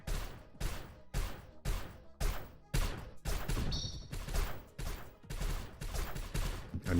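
Bullets fire in a roguelike video game as sharp, loud bursts that repeat in a fairly regular rhythm, each burst cut off by a short gap of near silence.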